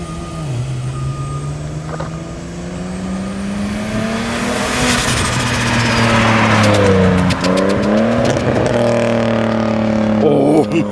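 A single-turbo BMW 335 engine idles then revs hard several times, the pitch climbing and dropping with a raspy, aggressive tone, heard close by from outside the car with a faint voice at times.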